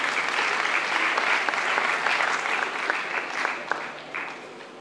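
Steady applause from an audience at a debate competition final, dense and continuous with scattered individual claps, fading slightly toward the end.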